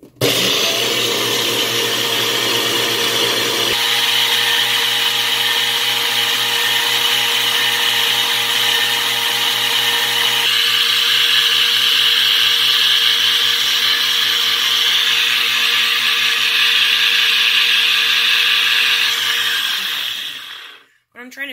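A NutriBullet blender whirs steadily as it blends nuts and coconut oil into nut milk, a loud, sustained motor roar that shifts pitch a few times before spinning down at the end.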